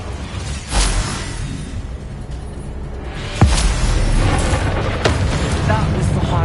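The Bombarda explosion spell in Hogwarts Legacy lets off a heavy booming blast, with a whooshing burst before it and a deep rumble continuing after.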